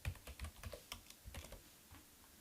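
Typing on a computer keyboard while entering a text note in Office 365 Excel: quick, light key clicks in an uneven run of about a dozen taps, close and quiet, with no voices.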